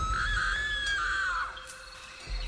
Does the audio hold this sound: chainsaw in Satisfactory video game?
no